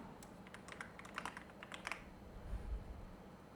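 Light, quick keystrokes on a computer keyboard, a short run of taps over a couple of seconds, close and soft against a quiet background, with no voices.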